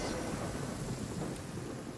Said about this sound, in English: It's getting all rainy.